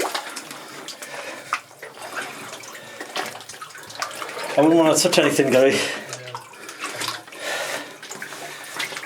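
Water splashes and sloshes inside a flooded mine, uneven bursts of movement through deep water with a louder surge midway, while someone talks over it.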